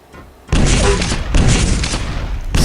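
Quake Live rockets land in a rapid cluster of heavy, loud booming explosions, one blast rolling straight into the next for about two seconds, up close with no talking.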